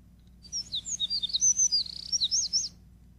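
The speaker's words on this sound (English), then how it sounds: "this is a is a canary bird song" A canary sings a quick run of bright, high twittering notes for about two seconds, clear and isolated against a quiet background.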